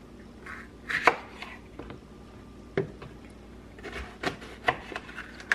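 A knife slices tomatoes in half for marinara sauce, giving a series of irregular, close taps and cuts against a board with soft handling noises between.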